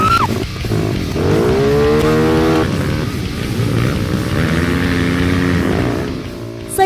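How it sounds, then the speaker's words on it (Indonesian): A motorcycle stuck in a muddy rice field in West Java revs hard and strains repeatedly, pitch rising and falling in bursts, loud and close, with no talking. "Trek lain yang membuat motor tertahan adalah sawah berlumpur milik salah satu anggota tim."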